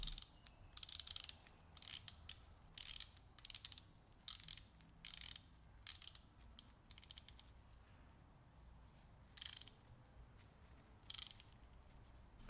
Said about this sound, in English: I'm checking my work by turning the tap in and out with my fingers.